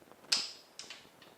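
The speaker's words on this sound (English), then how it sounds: "I'll just undo the bolts, the Allen bolt underneath" Allen bolts being undone on the brake light switch of a 1984 Yamaha Virago XV750 motorcycle: a few sharp metallic clicks and creaks with ratcheting turns, close up and fairly quiet, with no talking.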